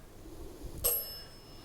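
A single bright ding from a small bell on paranormal investigation equipment sounds once, faint against a low background hiss.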